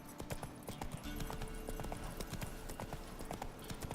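Roach the horse from The Witcher 3 gallops with quick, rhythmic hoofbeats, heard faint and steady under a busy game soundtrack.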